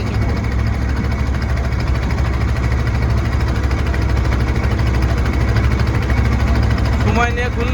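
A boat engine runs on the Karnaphuli River, a steady low droning hum that stays even and continuous throughout, with a faint higher whine near the end.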